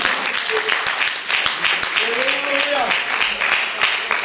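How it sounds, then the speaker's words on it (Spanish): Applause from a church congregation, a dense broadband patter held steady for several seconds with a voice or tone sliding faintly through the middle. "Alguien se atreve y le da un aplauso al Señor."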